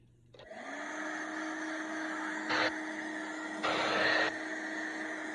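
A hair dryer switches on and blows with a steady, loud whir, rising in pitch as it starts, used to press down braids. Two short bursts of stronger airflow follow.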